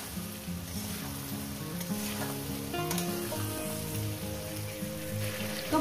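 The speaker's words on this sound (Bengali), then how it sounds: "এবার এটাকে ভাজবো মিনিমাম আরো 4-5 মিনিট ধরে" Ridge gourd and potato frying together in a pan, a steady soft sizzle with occasional stirring scrapes, moderately quiet and continuous with no talking.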